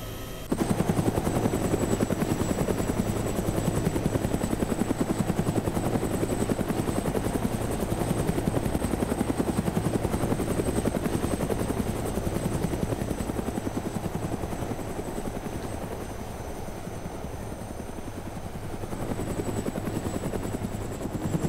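A helicopter flies steadily in the video game DayZ, its rotor chop and engine drone loud and continuous throughout, easing slightly near the end before swelling again.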